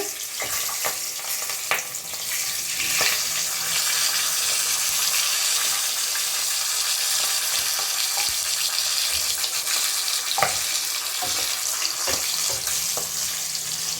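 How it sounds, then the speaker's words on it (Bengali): Katla fish heads frying in a pan, a steady close sizzle with a few sharper crackles and spatters running throughout, with no talk. "এইভাবে আমি আমার সব মাছের মাথাগুলো ভেজে নেব"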